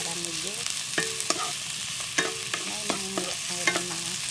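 Mussel meat for sisig toasting and stirred in a pan, with repeated scraping stir strokes over a steady low sizzle, close and fairly quiet, no talking.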